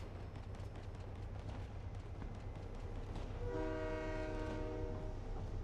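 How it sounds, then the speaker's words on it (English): A train in the video game Fortnite rumbles steadily in a continuous low roar, and partway through a horn blares a sustained chord-like blast over the rolling noise. "Where's the train? That's what I'm hearing."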